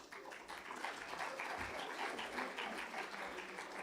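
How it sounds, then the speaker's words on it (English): Audience applause for conference panelists at the close of a session, a steady dense wash of clapping that holds evenly throughout, fairly faint and distant. "please give a warm round of applause for all the panelists"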